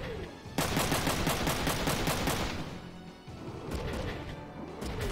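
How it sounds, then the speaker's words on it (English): Rapid machine gun fire from a combat mech in the video game Front Mission 3. The bursts are dense and loud, with a steady stutter of shots, a short gap, then another burst, and no talking. "Let's counter with the machine gun"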